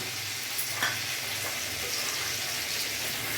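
Cumin powder, turmeric and Kashmiri chili being stirred in a hot frying pan give a steady close sizzle with faint scraping strokes throughout, and no voices.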